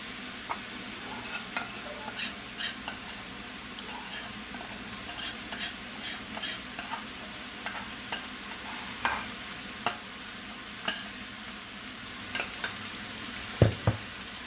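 Sausages, egg and tomato stirred in a frying pan, a soft sizzle running throughout under repeated light scrapes and clinks of a utensil against the pan, fairly quiet and close, with no talk.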